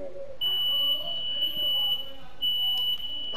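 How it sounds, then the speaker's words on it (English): A household smoke alarm sounds a shrill, steady beeping tone in two long stretches, with people talking and playing a basketball video game underneath. "I love my fire alarm."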